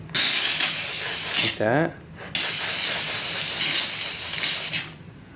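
Spray can hissing loudly in long broad bursts, with a brief voice in a short gap between sprays, then another sustained spray to the end.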